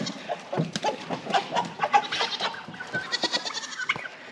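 Farmyard turkeys and chickens calling together, a busy run of gobbles, clucks and squawks in short, uneven bursts at moderate distance.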